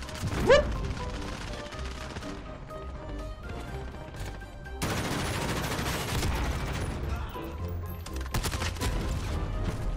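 Modern Warfare multiplayer gunshots ring out among busy game sounds: a sharp crack early on, then a sustained clatter of fire and impacts, fairly quiet overall, with little or no talk.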